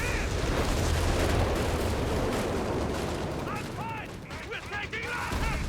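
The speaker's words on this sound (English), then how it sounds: "Oh, these whiz bangs." Shells exploding in Company of Heroes 3 during a 1v1 Wehrmacht versus US match, a dense barrage of blasts and gunfire rumbling continuously, with brief voice callouts near the end.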